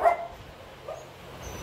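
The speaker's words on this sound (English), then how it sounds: "we've got dogs and dogs and dogs and dogs everywhere" Dogs bark at an animal shelter crowded with many dogs, with a loud bark at the start and fainter yips and barks later in a short burst, no talking.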